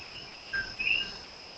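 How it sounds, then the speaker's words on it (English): Coqui frogs calling in the background: a faint two-note chirp, the second note higher and brighter, over a steady hiss of distant night insects. "I'm noticing coqui frogs"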